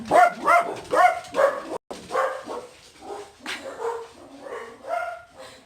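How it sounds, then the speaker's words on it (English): A dog barks over and over in a quick, regular series of sharp, close barks, a few of them higher and yelping. "they're barking"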